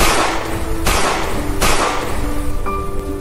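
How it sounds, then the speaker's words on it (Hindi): Three sharp, loud bangs ring out in steady succession, each followed by a brief decaying tail over background noise. "3 गोलियां दाग दी।"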